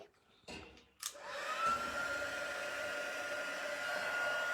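A heat embossing tool gives a few brief clicks, then a steady, loud whooshing roar of hot air, running continuously with a faint high whine.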